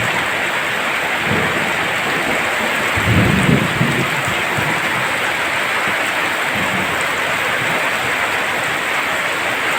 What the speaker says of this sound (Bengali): এত পরিমাণ এত জোরে বৃষ্টি হচ্ছে